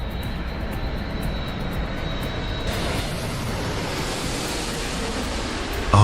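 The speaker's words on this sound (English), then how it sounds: "the aircraft continues flying as the pilots prepare for an emergency landing" Damaged airplane engine in flight, a loud, steady roaring rush with a thin high whine that fades partway through, heard close and without voices.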